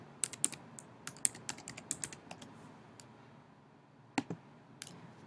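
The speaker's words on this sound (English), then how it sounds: "You go log in, put in your password." Keys tap on a computer keyboard as a password is entered, a quick run of close, light clicks with short gaps and then a few more taps after a pause, and no talking.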